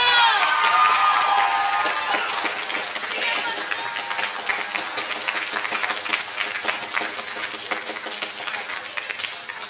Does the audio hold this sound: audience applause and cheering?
yes